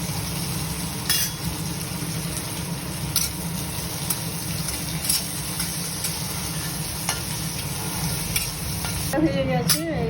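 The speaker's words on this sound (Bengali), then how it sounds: "ভাজা হচ্ছে, যেহেতু নুন মাখিয়ে রেখেছিলাম, এটা খুব তাড়াতাড়ি সাতলানো হয়ে যাবে" Salted bitter gourd fries in a pan with a steady close sizzle, stirred now and then with scraping strokes, continuous and loud without talk.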